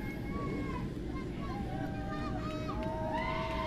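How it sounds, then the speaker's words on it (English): Crowd of fans at a Mopar Pro Superbike race in St-Eustache, a steady broad roar of cheering and babble with whistling tones, while a commentator talks over it. "A lot of fans cheering for the Shaker"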